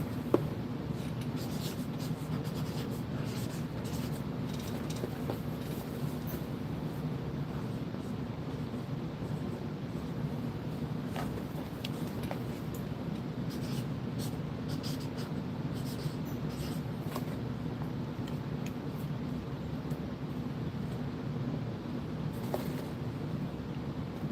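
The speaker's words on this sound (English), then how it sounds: "I'm going to write on the box 5W20 as well." A marker scratching on a cardboard box in steady, close strokes over a low constant background hum, with no talk.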